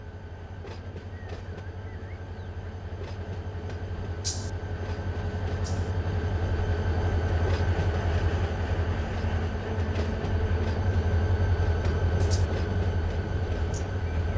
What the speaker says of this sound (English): Trains are awesome.